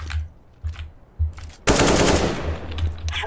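AK-47 rifle fire in Counter-Strike: Global Offensive on the Mirage map: a few short separate bursts, then a sustained loud stream of automatic gunfire close up, with no talking.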